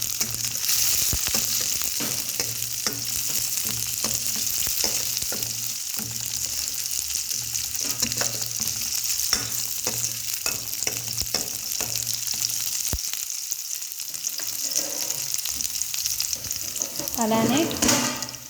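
Tempering spices crackling in hot oil for sambar, a continuous close sizzle peppered with sharp pops and spatters, with scraping stirs near the end and no talk.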